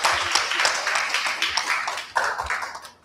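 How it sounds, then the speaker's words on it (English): An audience at a university festival event applauds, dense steady clapping that carries on for a few seconds and then trails off, with faint voices mixed in. "Please give another round of applause."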